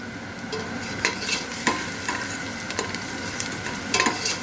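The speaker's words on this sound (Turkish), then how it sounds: "soğanımı ve biberimi zeytinyağında güzelce kavuruyorum" Onion and green pepper sauté in olive oil for Turkish dried bean stew, a soft steady sizzle broken by intermittent clinks and scrapes of a utensil stirring the pan, fairly quiet and without speech.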